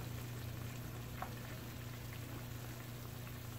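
Squash simmering in about a cup of water in a pot, a steady low bubbling hiss that runs evenly and fairly quietly throughout with no talking.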